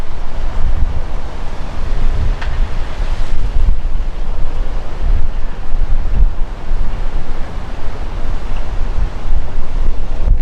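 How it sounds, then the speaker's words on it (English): Strong, steady wind roars during a dust storm in Boise, Idaho, a loud continuous rush buffeting the microphone for the whole stretch with no pauses. "Love being out in the weather. See the wind just coming in."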